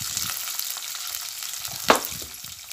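Onion frying in a pan with ridge gourd, a soft steady sizzle with light stirring taps and one sharp louder scrape near the end, close and quiet with no voices.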